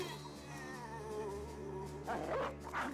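Dogs barking in the video game Battle Brothers, short yips and barks toward the end over a steady droning game soundtrack, moderately loud with no talking.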